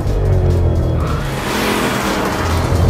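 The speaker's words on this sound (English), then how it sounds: "one of the issues that can pop up with a live rear axle, during big smoky burnouts" A 2011 Ford Mustang with a live rear axle doing a big smoky burnout: steady loud engine roar with a sustained high squeal of spinning tires, continuous and close for the full stretch.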